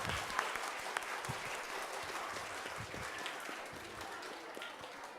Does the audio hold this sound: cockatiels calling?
no